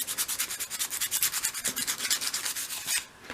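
Quick rhythmic rasping strokes of an old emery board sanding a 1/12th scale model, close up, back and forth about a dozen passes before stopping.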